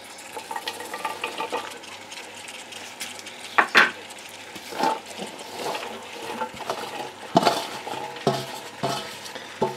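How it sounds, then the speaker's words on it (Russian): Carrots tipped over onion already frying in a pan for a stewed fish and rice dish, with a utensil stirring and scraping through the sizzle and a few sharp clinks against the pan. "Теперь сверху высыпаем морковку. Лук немножко поджарился."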